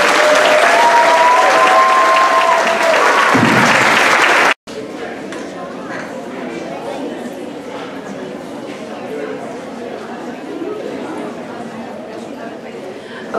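An audience claps for pre-K students at a school awards event. The loud, dense applause is cut off after a few seconds and then continues at a steadier level, with crowd chatter running through it.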